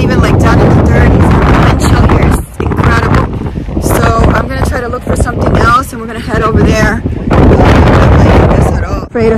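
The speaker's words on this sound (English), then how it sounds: "Super windy here." Strong wind buffets the microphone in loud, continuous rumbling gusts at a truck parking area, with a voice talking over it.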